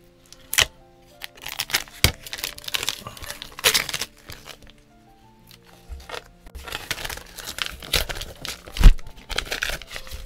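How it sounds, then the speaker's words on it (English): Tape peeled and torn away from a part of a modded budget 75% mechanical keyboard, giving a run of sharp crinkling rips and crackles in irregular bursts, close and fairly loud, with no talking. "So I'm gonna go ahead and pull this tape off."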